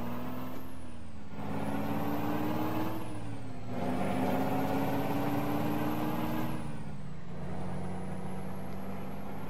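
A Peterbilt 379 EXHD truck in Euro Truck Simulator 2 accelerates, its engine droning steadily and climbing in pitch through several gear changes, with a high whine rising and dropping alongside it and no talk.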